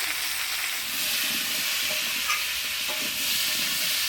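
Cut squash frying in a hot pan with turmeric and salt, a steady loud sizzle with occasional scraping and stirring, no voices.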